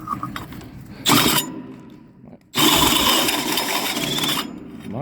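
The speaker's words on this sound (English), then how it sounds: "I'm going to drill a hole in this so we can run our line through it." A power drill bores a hole through the shell of a tanker trailer in two loud bursts, a short one and then a longer sustained one, with a grinding whine close up and no talk.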